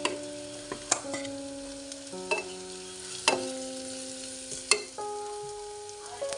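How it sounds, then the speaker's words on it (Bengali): Onion, ginger and garlic fry in a pan with chili, turmeric, salt and spices, a stirring spoon scraping and clacking every second or so over a soft, close sizzle, with no talk. "এবার অল্প অল্প জল দিয়ে আমি সব মশলা কষিয়ে নিচ্ছি"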